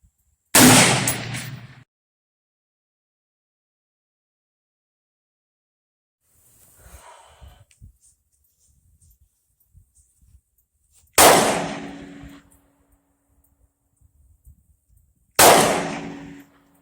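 Three loud, sharp gunshots crack at an outdoor shooting range, each ringing briefly before dying away, widely spaced with quieter handling noises and faint clatter between them.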